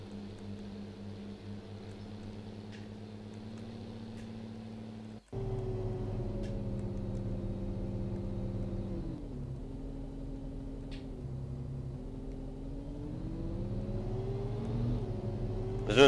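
A farm vehicle in the Cattle and Crops game drives back to the field, its engine a steady low drone that shifts up in pitch after a brief gap, rising and falling gently with speed.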